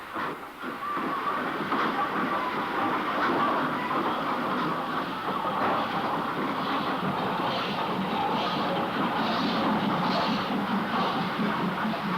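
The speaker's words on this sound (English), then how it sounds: "The two Jintys worked the tour train back to Stockport." Two Jinty tank locomotives haul a railtour train toward Stockport, producing a steady rumble, rhythmic wheel clatter and steam hiss that continue unbroken for the whole passage.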